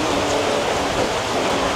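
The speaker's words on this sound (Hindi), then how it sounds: "यहाँ पे इतनी तेज़ बारिश शुरू हो चुकी है" Heavy rain pours down on a food street near Batu Caves in Malaysia, a dense, steady hiss of water filling the whole moment without a break and with no voices.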